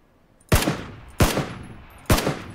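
Three sharp gunshots in the battle-royale video game PUBG, evenly spaced about two-thirds of a second apart, each a hard crack with a short echoing tail, fairly loud and without talk.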